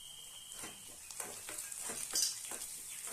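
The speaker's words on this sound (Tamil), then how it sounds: "அப்படியே லைட்டா ஒரு பெரட்டிடலாம்." Chopped onions and curry leaves sizzle as they fry in a pan while a spoon stirs them, with a few soft scraping strokes against the pan.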